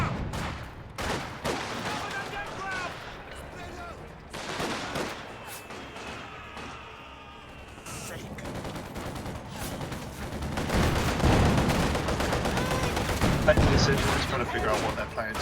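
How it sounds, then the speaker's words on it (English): Cannon fire and gunfire in a World War II strategy video game crack in dense, irregular bursts with booming impacts, growing heavier toward the end, and voices are heard talking over the battle. "Cannon fire!"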